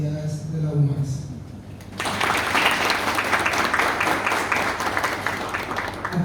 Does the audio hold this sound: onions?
no